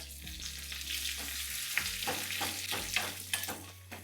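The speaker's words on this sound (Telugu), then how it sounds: "బాగా వేగనివ్వాలి. అలాగే నేను జీడిపప్పులు వేస్తున్నాను." Cashews and curry leaves fry in hot tempering oil for coconut curd rice, a steady close sizzle broken by clinks of stirring against the pan.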